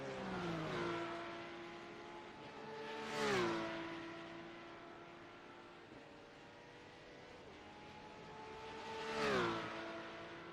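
Simulated Porsche Mobil 1 Supercup race cars warming up at Circuit de Barcelona-Catalunya in iRacing, a steady engine drone with two loud whooshing pass-bys and pitch sweeps, no talk.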